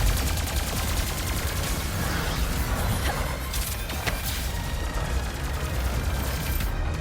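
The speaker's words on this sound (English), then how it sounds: "Who the hell is shooting, man?" Dense, sustained gunfire from the video game Ratchet and Clank: Rift Apart, rapid overlapping shots and blasts filling the scene loudly and without pause.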